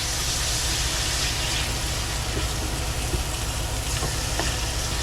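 Dove and sausage frying in a pan at a camp cookout, turned with a spatula: a steady, dense sizzle throughout with a few faint taps, no voices.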